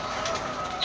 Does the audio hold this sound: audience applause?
no